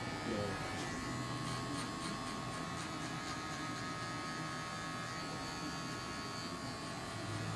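Electric hair clippers buzz continuously and loudly, close up, while cutting a high taper at a barbershop, a steady motor whine throughout with slight variations as the blade moves.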